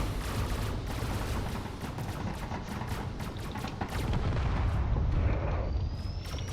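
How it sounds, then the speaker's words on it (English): Frigates in a space-battle video game fire their guns in a dense, continuous barrage of booming shots and rumbling explosions, loud and steady throughout with no talk over it. "Frigates are trying to do whatever they can, firing away on all sides."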